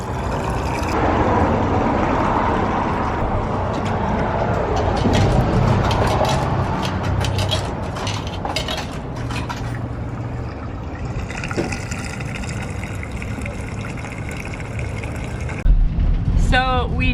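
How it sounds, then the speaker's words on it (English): A small water pump fills an RV's water tank, making a steady gushing, rushing stream of water that runs throughout alongside background noise, with brief voices heard near the end. "This is a little water pump right here."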